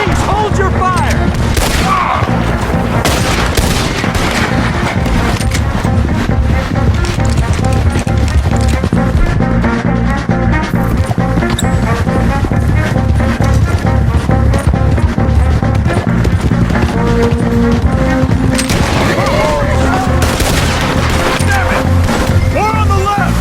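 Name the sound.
gunfire in shootout, from video game Red Dead Redemption 2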